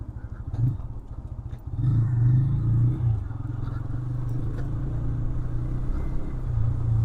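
TVS Apache RTR 160 2V motorcycle riding through the city, its engine giving a steady close rumble that rises and settles as gears change.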